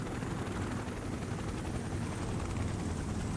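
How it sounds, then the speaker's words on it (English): Helicopters fly in the video game STALCRAFT, their rotors giving a steady, unbroken whir and throb at moderate distance with no talking over it. "There's a couple helicopters out there."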